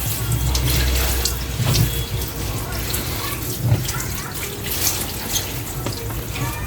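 Tap water pours steadily into a kitchen sink while molokhia leaves are washed, a dense continuous splashing rush with occasional louder sloshes, close and fairly loud.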